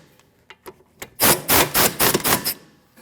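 Ratcheting wrench tightening two 17mm nuts on the rear brake caliper bracket of a 2012-2016 Honda CR-V, heard as a few light clicks followed by a close run of six loud, rapid ratchet bursts, with no talking.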